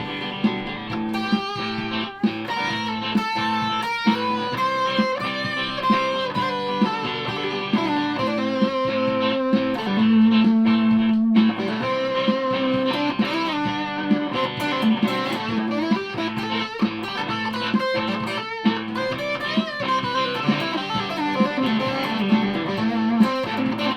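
Electric guitar played through a distortion effect, with thick, buzzing sustained chords and notes ringing steadily and loudly for the whole stretch.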